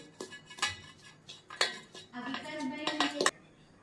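A spoon works through handvo batter in a bowl, giving several close, bright clinks and scrapes against the side in uneven bursts, with a steadier stretch of stirring toward the end and no talking.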